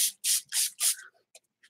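A spray bottle mists water onto watercolor paper in four quick close bursts, then a few faint light taps and hisses trail off.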